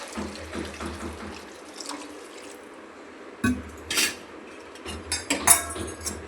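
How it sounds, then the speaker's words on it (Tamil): Water added to drumstick vegetables in a pan for hotel-style sambar: a splashing pour with metallic clinks of a vessel and utensils, close by and without talk. "இப்போ காய் வேகிறதுக்கு தண்ணி சேர்க்கணும்."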